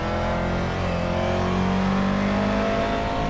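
A race car engine in the iRacing sim game at Watkins Glen holds a loud, continuous drone with shifting harmonic tones as the revs rise and fall. No voices are heard over the engine.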